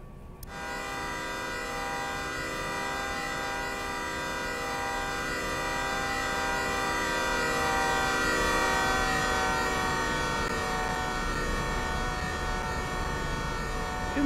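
Steady droning rumble of a long freight train with a caboose rolling past in the Derail Valley game, a dense stack of sustained tones like a held horn or whistle swelling gradually and staying loud throughout.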